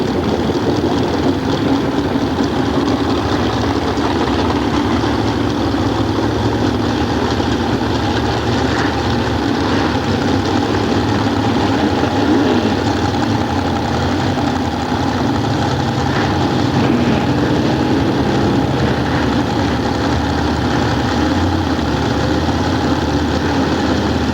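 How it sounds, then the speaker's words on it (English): A 454 cubic inch Chevrolet engine in a drag racing car idles at a nostalgia drag race, a steady low rumble holding throughout. "Now this is powered by 454 cubic inches of Chevrolet."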